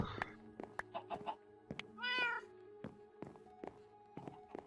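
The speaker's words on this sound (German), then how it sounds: "Ist ja auch eine Katze" A Minecraft cat meows once in a drawn-out, wavering cry amid game sounds, with soft block thunks and footsteps spread around it.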